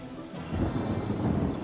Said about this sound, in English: if we use rain and wet him